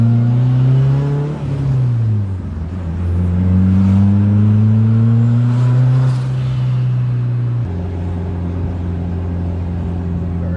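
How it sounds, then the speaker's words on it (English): Boosted car with a 3-inch straight-pipe exhaust and rear muffler revving up and down, a loud close droning engine note rising, falling and settling into a steady hold. "It's a full straight pipe, except the muffler on the back, I'm pretty sure. 3-inch."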